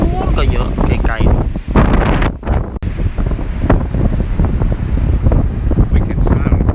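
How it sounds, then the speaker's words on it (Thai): Strong wind buffets the microphone in loud, continuous gusts on an island beach ahead of Hurricane Dorian, with surf rumbling underneath and people talking over it. "that's why we got wind blowing from other direction"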